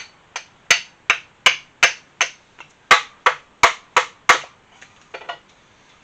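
Sharp knife strokes shaving a wooden timber frame peg, about fifteen crisp close cracks and chops in an uneven rhythm, a few softer clustered ones near the end.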